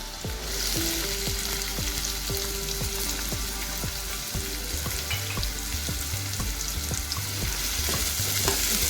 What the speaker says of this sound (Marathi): कांदा थोडा चांगला शिजू द्यायचा आहे आपल्याला